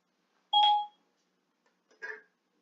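A phone emits two short electronic beeps during a screen-share call, about a second and a half apart, the second fainter, against otherwise quiet background.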